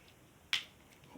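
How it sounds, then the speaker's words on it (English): Watermelon slime squeezed by hand gives one sharp, close crunch midway through an otherwise quiet moment, with a little soft handling noise around it. "had a nice crunch there"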